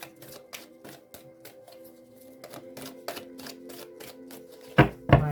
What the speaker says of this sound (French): je vais un peu battre les cartes avant